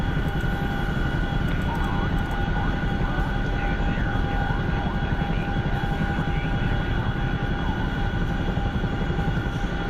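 A Chinook helicopter flies at night in a flight game, giving a steady loud rotor and engine drone with a constant whine and no pauses.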